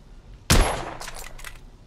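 A single sharp, loud gunshot in the video game The Order: 1886 bursts out, followed by a few quicker, fainter cracking echoes trailing off.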